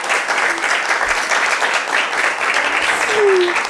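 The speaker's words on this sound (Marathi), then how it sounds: "टाळ्या झाल्या पाहिजे" A crowd at a Ganesh festival event at Omkareshwar Mahadev temple applauds steadily throughout, a dense, even wash of clapping that never pauses.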